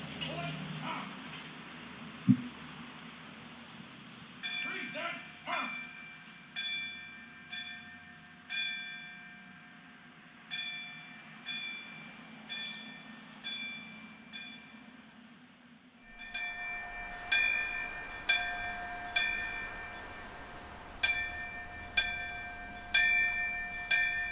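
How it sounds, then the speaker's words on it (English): An alarm bell struck repeatedly in slow, evenly spaced rings at a 9/11 remembrance ceremony, each chime decaying before the next, the strikes growing louder and brighter partway through. "Retired firefighter Captain Mark Valcourt will now sound the alarm bell, the last call."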